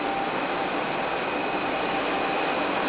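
A Mumbai monorail train runs with a steady, even rumble and hiss that holds at one level throughout, with no voices.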